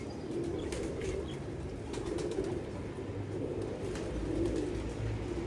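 Pigeons in a loft, with soft low cooing and bursts of wing flapping over a steady rumbling background, close by and moderately loud throughout.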